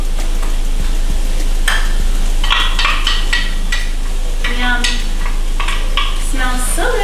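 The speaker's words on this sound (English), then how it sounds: "I'm gonna let the garlic cook until it's fragrant, so like 30 seconds to a minute." Garlic and onions cook in a pan with a steady sizzle, broken by scraping and stirring strokes from a utensil, plus a few light clinks of cookware, all close and fairly loud.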